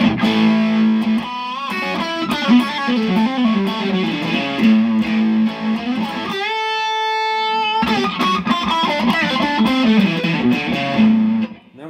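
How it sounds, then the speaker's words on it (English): Electric guitar through a Crate V32 Palomino tube amp with the distortion turned all the way up, playing loud saturated riffs and chords with a brief sustained chord in the middle. "And I'll crank up the distortion."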